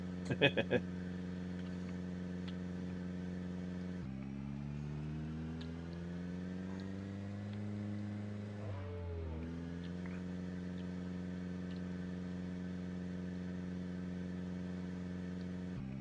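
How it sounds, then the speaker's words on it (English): A car engine in the video game Project Zomboid drones steadily and strains, its pitch sliding up, dipping sharply, then settling into a constant hum, with no other sound in the foreground. "Sorry for all the engine noise"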